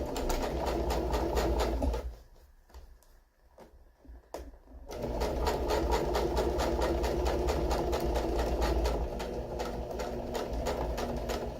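A sewing machine runs a flat surface stitch on a homemade storage caddy, whirring steadily and close, pausing for about three seconds before resuming its rapid, even rattle.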